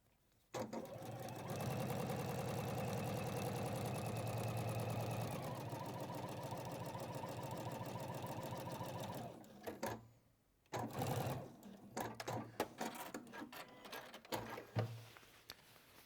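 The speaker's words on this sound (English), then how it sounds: "we're going to sew over the same line of stitching on the 1 centimetre sew line" A domestic sewing machine runs a long steady burst stitching over an existing seam line at a 1 cm sew line, then stops and gives a few shorter bursts, close and loud, with no talking over it.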